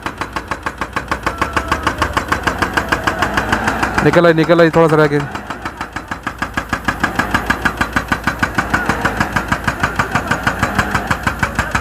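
A car stuck on a mountain road under construction revs its engine in a steady pulsing drone while bystanders push it, with a brief harder surge midway. People talk over the engine throughout.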